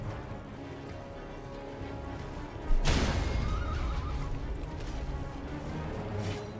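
A horse lets out a loud, sudden whinny that trails off, over a low rumbling background with faint scuffing sounds.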